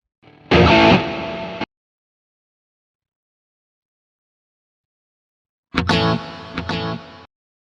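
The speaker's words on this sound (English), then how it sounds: "You hear that instant death of your reverb trails and all that." Two loud bursts of distorted electric guitar through a BOSS GX-100, each ringing briefly and then cutting off dead into silence, the reverb trails dying instantly with no trailing echo.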